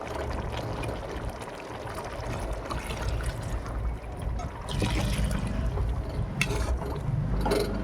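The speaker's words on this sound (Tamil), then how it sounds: "அந்த தண்ணியை இது பிரியாணிக்கு ஊற்றிக்கலாம்." Measured water trickles and pours into a cooking pot of Ambur mutton biryani, a close, continuous splashing stream with a few metallic clinks near the end.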